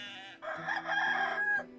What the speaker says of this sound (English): are you looking after the the rooster here?